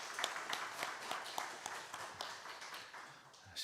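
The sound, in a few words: congregation applauding in church service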